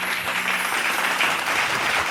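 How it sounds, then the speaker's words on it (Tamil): A church congregation claps hands together in dense, continuous applause, loud and close, with no talk over it. "கைத்தட்டுங்க."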